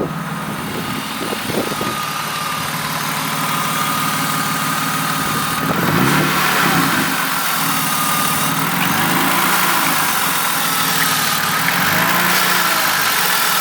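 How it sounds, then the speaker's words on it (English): A BMW E36 engine runs close and loud with a steady idle, lifting in a few light, brief revs before settling back, with no talking. "You want to give it some light revs?"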